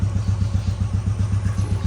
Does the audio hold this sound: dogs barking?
no